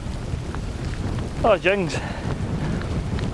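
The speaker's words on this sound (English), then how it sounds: "the rain started, and it's not stopped." Rain falling on a Scottish hill, a steady hiss with gusty rumble, continuous and close, while a man briefly exclaims over it.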